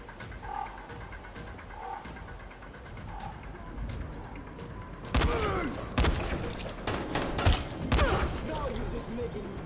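Gunfire in the video game Dying Light: The Following, heard as a rapid burst of sharp, loud shots clustered in the second half, after quieter game ambience with faint clicks and tones.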